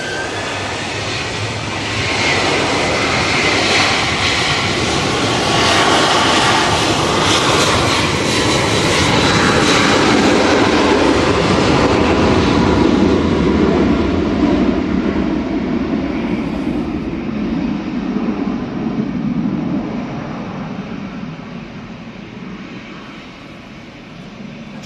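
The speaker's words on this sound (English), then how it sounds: "Liz not liking that Ryanair because it was unnecessarily loud" A Ryanair airliner takes off at a windy Manchester Airport, its engines building to a loud, sustained roar that swells and then slowly fades into the distance, with wind noise throughout.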